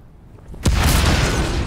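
A sudden loud explosion in the video game Mafia: Definitive Edition booms out after a quiet moment, followed by a sustained roaring rumble.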